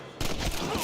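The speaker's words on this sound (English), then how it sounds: "let me shoot you in the ass cheek." Gunfire in a shooter video game, a sudden loud burst that starts abruptly and keeps up as dense rapid shots for under a second, close and alone.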